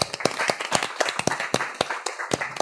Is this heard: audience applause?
yes